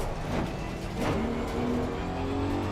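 Porsche 991 GT3 R race car engine in Assetto Corsa Competizione at Kyalami, a steady high-revving drone with gear-change dips, heard alone at moderate level.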